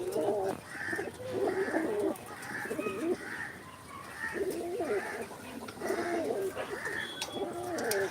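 Pigeons coo repeatedly in soft rhythmic phrases, several birds overlapping at a moderate distance with faint background noise.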